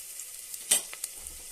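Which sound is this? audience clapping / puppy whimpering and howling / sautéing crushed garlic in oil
sautéing crushed garlic in oil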